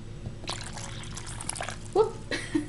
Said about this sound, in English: overflow your water dish a little bit